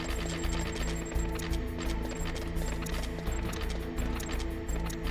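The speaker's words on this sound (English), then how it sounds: "Just practicing my reloads." Weapon reloading in the video game Metal Gear Solid sounds as a run of repeated mechanical clicks and clacks in a steady rhythm, layered over a constant tonal game background hum.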